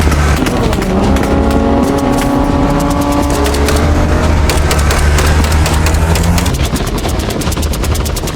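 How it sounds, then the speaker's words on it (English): An Aston Martin One-77 engine in a racing video game revs loudly and continuously, its pitch climbing then easing back, with rapid crackling pulses layered over the drone. No voices are heard. "This car sounds wonderful."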